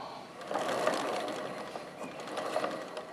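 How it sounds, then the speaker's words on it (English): A brand-new chain on a mini bike rolls over its sprockets, a soft continuous clicking, whirring rattle heard up close for a few seconds without speech. "Brand new chain,"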